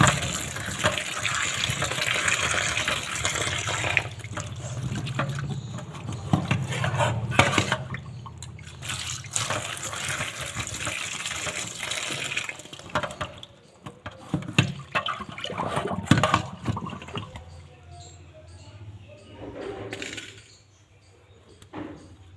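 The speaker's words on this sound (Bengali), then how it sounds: "তো তারপর আমি পটলগুলোকে ভালো করে ধুয়ে নিচ্ছি।" Pointed gourds (potol) being washed by hand under running water in a home kitchen, a steady gush with splashing that ebbs and swells, fairly close, then tapering to quiet near the end.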